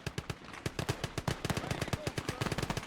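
An MG Jeep's machine gun in the WWII strategy game Gates of Hell Ostfront fires rapid, sharp bursts, a dense stream of rhythmic cracks at moderate distance, with no talk over them.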